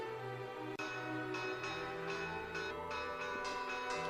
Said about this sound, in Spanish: las campanas de su iglesia parroquial llaman a los vecinos